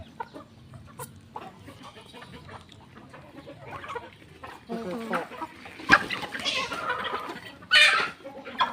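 Chickens cluck and squawk around a rural Thai home, with scattered bursts of clucking rising louder toward the end over quiet ambient background noise and occasional faint voices.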